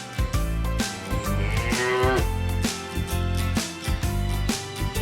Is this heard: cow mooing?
yes